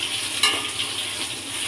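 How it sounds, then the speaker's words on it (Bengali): Potatoes frying in a pan for musur daler bora, a steady close sizzle with a brief scrape of stirring early on. "ভেজে নিচ্ছি আলুটা।"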